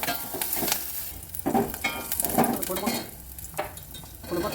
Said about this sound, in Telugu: మునక్కాడలండి, కొంచెం వేగాలి మునక్కాడలు